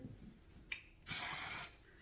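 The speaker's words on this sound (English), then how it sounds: "I may even use a little bit of texture spray" Texture spray hisses onto a human-hair and synthetic-fiber blend wig in one close, steady burst of just over half a second. A tiny click from the nozzle comes just before it.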